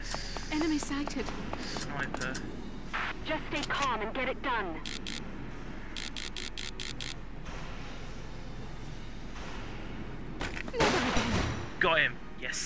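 A sniper rifle fires in the Valkyria Chronicles video game, with sharp shots and clattering mechanical noises scattered among game sound effects and voices over about twelve seconds.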